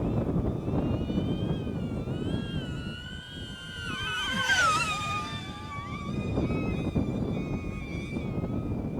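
Strong wind buffets a DJI drone flying manual FPV. A broad, rough roar of gusts swells and fades, and a whining electronic tone glides up and down in the middle, with no talk.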